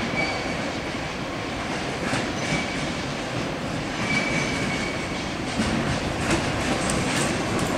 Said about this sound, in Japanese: 機関車に引かれた貨物列車が到着しました